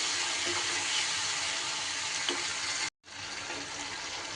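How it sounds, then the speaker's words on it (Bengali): Ground spice paste for a fish roe dish fries with a steady close hiss after a splash of rinse water from the mixer jar, broken by one brief silent gap before the sizzle resumes. "মিক্সির বাটিটা ধুয়েও অল্প পরিমাণ একটু জল এখানে আমি অ্যাড করে দিলাম।"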